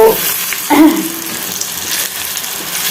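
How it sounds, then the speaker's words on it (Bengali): Paneer and potato pieces seasoned with salt and turmeric fry in a pan, giving a steady close sizzle with a brief louder crackle early on, and no one speaking over it. "এই পনিরের আলুটা এখানে ভেজে তুলে নিলাম লবণ হলুদ দিয়ে"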